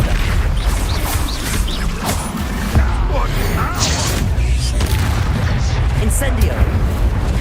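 Spell explosions from Hogwarts Legacy rumble as deep, dense booms amid constant combat noise, with a voice calling out spell names over the din.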